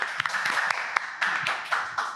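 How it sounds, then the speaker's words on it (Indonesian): A small studio audience on an Indonesian podcast claps briefly, a few scattered, moderately close hand claps over a steady hum of room noise. "Tepuk tangan semuanya."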